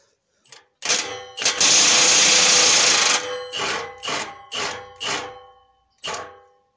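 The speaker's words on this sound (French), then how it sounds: "j'ai pris la clé à choc" Impact wrench unscrewing a nut on an Alfa Romeo Giulietta 2.0 JTDM 170 during an Ulter Sport dual exhaust fitting, a loud two-second hammering burst followed by several shorter rattling pulses, close and alone.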